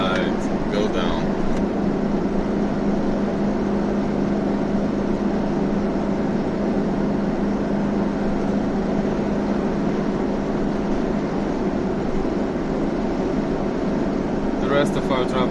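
Steady interior road and engine drone inside a newly collected car on the drive home, a constant broadband rumble with no pauses and only brief faint clicks at the start and end.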